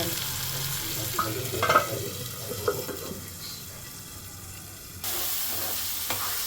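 Chicken fry sizzles in a hot pan at home while being stirred, with scraping strokes and brief clatters over a steady frying hiss, close and moderately loud.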